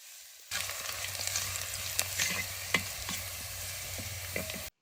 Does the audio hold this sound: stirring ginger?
yes